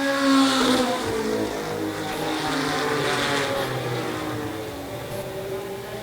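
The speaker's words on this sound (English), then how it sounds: "Four car, Jack Dumas sounds like he's having a little bit of ignition problems though, sporadically." A race car engine with intermittent ignition problems droning and revving unevenly, its pitch wavering and dipping as if misfiring, heard as a steady loud roar.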